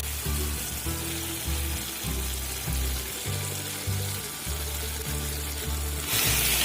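Tomatoes and aloe vera sauté in a pan for a Tamil aloe vera kara kuzhambu, giving a steady close sizzle with occasional stirring scrapes over a continuous musical background.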